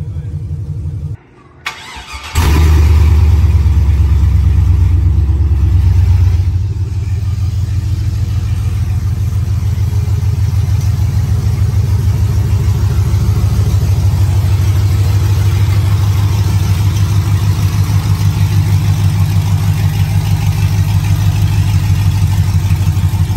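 A GMC Denali single cab pickup fitted with long tube headers run open starts up with a brief crank, then settles into a loud, deep, steady idle rumble that holds for the rest of the clip.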